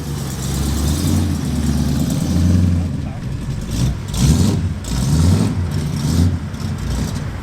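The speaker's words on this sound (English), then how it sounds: "Oh, the Camaro's departing. What a great sounding car that is." A Chevrolet Camaro with a 350 V8 pulls away at a classic car gathering, its deep engine burbling and swelling in a few revs over steady low rumble, with people talking nearby.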